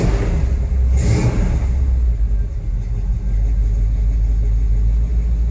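The engine of a single cab dually truck, just jump-started with its idle set a little low, rumbles loudly and close, with a brief rev near the start before settling into a steady idle.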